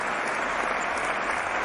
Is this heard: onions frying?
no